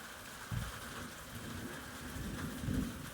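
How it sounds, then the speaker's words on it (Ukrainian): Steady rain pours throughout a rain and hail storm, with a couple of low, muffled rumbles of distant thunder rising briefly beneath the downpour. "О, гримить а я тут знімаю."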